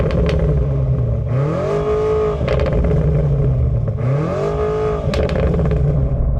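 A new BMW M5 plug-in hybrid revs loudly and close by. Its engine climbs and falls in two sweeping rev blips with sharp crackles between them, over a steady rumbling idle.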